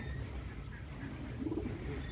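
Soft low cooing from pigeons settling into their coop, a few gentle repeated coos near the end over a steady background hum.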